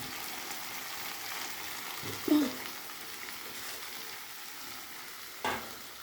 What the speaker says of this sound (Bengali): এবার খালি মশলা দিয়ে ভাজা হবে।